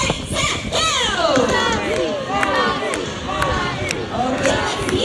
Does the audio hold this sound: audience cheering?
yes